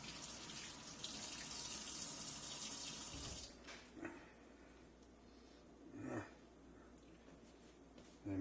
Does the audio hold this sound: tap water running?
yes